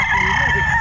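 A rooster crows briefly and close at a Bocaue pet market, a short loud call over steady background noise.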